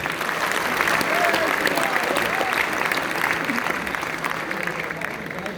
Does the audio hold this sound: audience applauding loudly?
yes